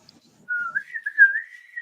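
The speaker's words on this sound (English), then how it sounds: "and then like a slide whistle" A slide whistle plays alone, one continuous tone that glides up and down in pitch for just over a second, close and clear.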